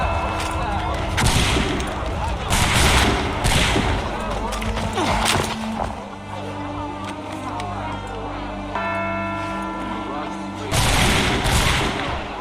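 Musket volleys crack out in Assassin's Creed 3 Remastered, with loud repeated bursts of gunfire and booms separated by quieter stretches, while voices shout and music plays underneath.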